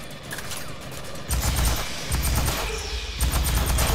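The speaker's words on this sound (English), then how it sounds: "I'm shooting some buggies." Gunfire from weapons shooting alien creatures in the video game Aliens Fireteam, rapid bursts of shots cutting in and out over a busy game soundscape for about four seconds, with no talk.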